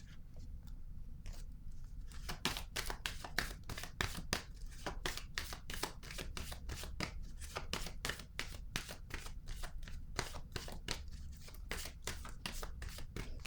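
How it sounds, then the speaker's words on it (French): Tarot cards riffled and shuffled by hand, then one card drawn: a steady run of quick, crisp papery flicks and rubs, close and fairly quiet, with no talking. "Je vais piger une autre carte."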